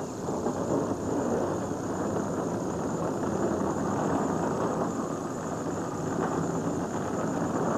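NASCAR Busch Series stock car engines at Dover's Monster Mile in 1999 make a dense, steady rumble at a distance, with no clear individual revs.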